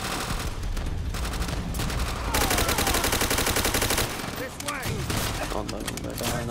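Heavy gunfire in the Call of Duty: World at War campaign, with dense bursts of rifle and machine-gun fire over battle noise and voices shouting.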